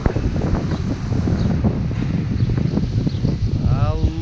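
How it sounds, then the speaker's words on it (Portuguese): Strong Patagonian wind buffets the microphone outdoors, producing a loud, continuous low rumble and gusting roar that fills the whole stretch with little variation. "Não sei se dá para escutar alguma coisa por causa do vento."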